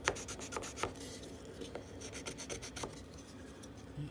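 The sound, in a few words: notching out drywall for a plumbing valve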